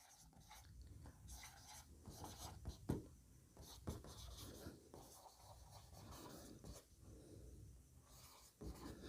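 A pen scratches across paper in irregular strokes and bursts of writing, close and fairly quiet, with a few short taps, while a chemistry problem on inner orbital complexes is worked out.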